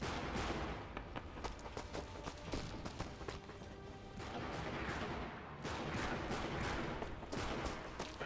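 Dense, rapid gunfire from the video game Sniper Elite V2 crackles almost continuously, loud sharp shots stacked into a steady fusillade with no talking over it.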